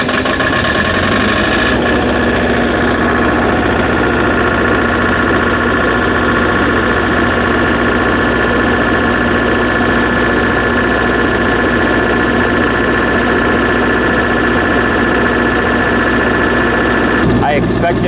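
Diesel engine of an MEP 803A generator under rebuild: after a brief start, the engine settles into a loud, steady, close running drone with a constant hum and vibration that carries on alone until a clatter at the end.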